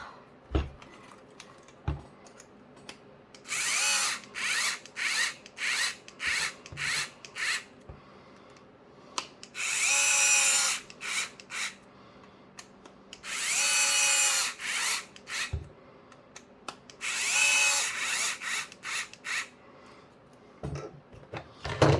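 A power drill drives screws into a Traxxas Slash 2WD RC car rear suspension, loud whirring bursts of a few seconds each, repeated several times and separated by small clicks and the rattle of parts being handled.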